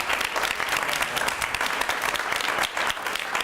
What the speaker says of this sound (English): I think we need to get a big round of applause for our moderator, Adam Zucker, if we could have that, please.